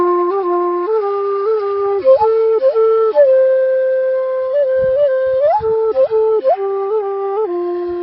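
A bansuri bamboo flute plays a simple gamak ornament, its clear breathy tone sliding smoothly up and down between neighboring notes in a flowing legato phrase, close and loud, with no voice.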